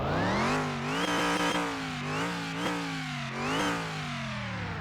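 A car engine in the video game Car Mechanic Simulator 2021 revs hard and continuously, its pitch rising and dipping in waves, loud and close throughout.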